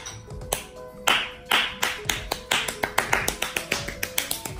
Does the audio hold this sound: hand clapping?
yes